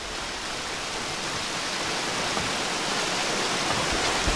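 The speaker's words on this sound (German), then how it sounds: "das Wasser ist auch wieder richtig schön laut" Loud, steady rushing water from a river or waterfall in the video game Gothic II, a continuous broadband roar that holds evenly throughout with no talk.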